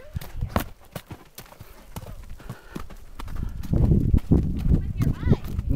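A horse's hooves clip-clop in a steady rhythm of sharp knocks during a first canter, close and clear, with a rider talking and breathing over the footfalls.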